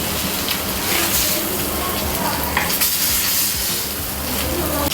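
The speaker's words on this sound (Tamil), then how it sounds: "இந்தளவுக்கு ஃப்ரை பண்ணால் போதும்." Fish fries in a hot pan for a fish tikka masala, giving a steady, dense sizzle and crackle that stays loud and close throughout, with no speech.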